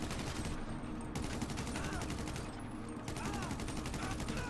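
Rapid automatic gunfire in a GTA Online mission, sustained bursts of fast repeated shots that continue almost without pause, with brief dips between volleys.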